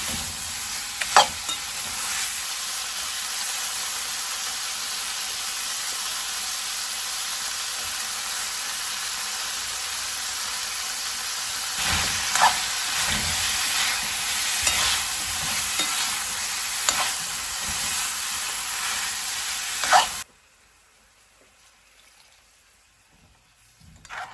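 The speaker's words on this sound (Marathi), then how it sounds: "थोडासा फ्लावर शिजल्यानंतर मग इतर मटार वगैरे ते सगळं ॲड केलं पाणी टाकलं आणि मस्त भाजीला वाफ दिली" Cauliflower and peas in a vegetable curry sizzle and steam in a pan with a loud, even hiss and occasional stirring scrapes for about twenty seconds, then the sound cuts to near silence.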